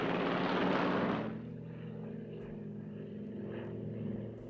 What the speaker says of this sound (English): Aviation filled the screens and audiences could share with the privileged few the excitement of